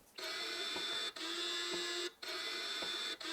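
A testing machine twists a stiff Shimano RC902T cycling shoe at 5 newton-metres of torque, producing a steady mechanical whir with a faint tonal hum, broken by short regular pauses roughly every second.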